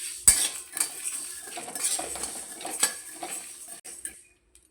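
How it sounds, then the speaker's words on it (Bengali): Dried red chilli and whole spices stirred in a pan while frying for green-mango oil pickle, a metal spoon clinking and scraping against the pan in repeated strokes, with a faint crackle underneath and no talk. "মশলা থেকে চুরবুর চুরবুর আওয়াজ হচ্ছে।"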